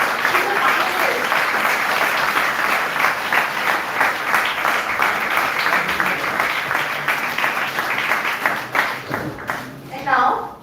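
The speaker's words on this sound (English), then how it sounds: "Ladies and gentlemen, this is the continuous round of applause." A sustained round of applause for a finalist at a college event, loud and continuous for most of the time, then thinning out as a voice begins speaking near the end.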